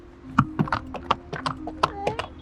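Horse hooves clip-clop near a beach in Rishikesh, a quick irregular run of sharp hoof strikes close by, with a faint background hum.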